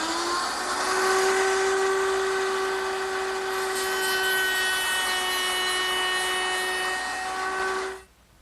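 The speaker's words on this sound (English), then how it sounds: "I'll do that with the router table and a 1/4 inch rounding over bit" A router table with a quarter-inch roundover bit shapes the edge of a drawer front, giving a loud, steady high-pitched whine with bright harmonic overtones that holds for about eight seconds before cutting off abruptly.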